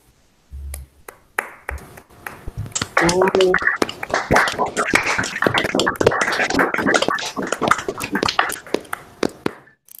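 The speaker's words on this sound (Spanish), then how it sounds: "Bueno, entonces otro aplauso." Applause from a seminar audience: scattered clapping builds into a steady patter lasting several seconds before tapering off, with voices talking around it.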